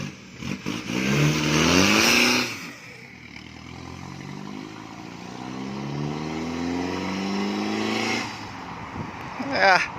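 A car engine on a test drive after a fresh installation revs hard twice, its rising, throaty pitch sweeping up and dropping back to a steady drone in between, loud and close with a voice briefly underneath.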